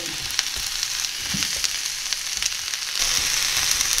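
Sliced carrots and zucchini sizzle and fry in a pan over medium-high heat, a steady close crackle with occasional stirring scrapes and a louder burst near the end.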